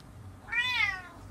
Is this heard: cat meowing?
yes